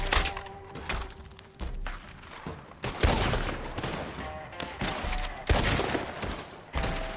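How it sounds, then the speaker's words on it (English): Gunshots in the video game Call to Arms, a series of sharp cracking shots and heavy thumps at irregular intervals, fairly loud with reverberant tails between bursts. "They're going to take one more shot, two more shots, three more shots."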